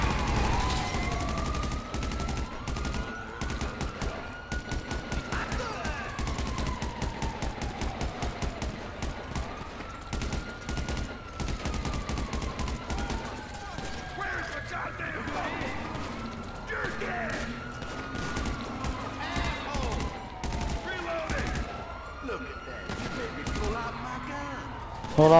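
Rapid bursts of assault rifle fire crackle through a police video game shootout on the east side of a highway, dense and continuous under a steady bed of sirens and radio chatter, with voices talking throughout.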